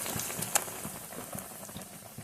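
Batter-dipped bread slices deep fry in oil in a kadai, giving a faint, steady crackle and sizzle with scattered small pops and no talk.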